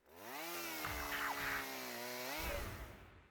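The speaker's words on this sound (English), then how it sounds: "Drill went through the coffin." In a video game, a drill bores through a coffin, grinding loudly and steadily for about three seconds with a shifting pitch, then tails off.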